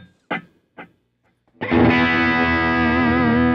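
An electric guitar runs through a DL4 delay pedal. Two short picked plucks come first, then a loud sustained distorted note rings out with rich harmonics and a slight warble, close and alone.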